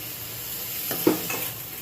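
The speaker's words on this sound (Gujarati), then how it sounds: "હજુ થોડું પાણી એડ કરીશું." Water poured into simmering onion gravy in a pan, a soft splash and hiss rising briefly over steady background sizzle, close and alone.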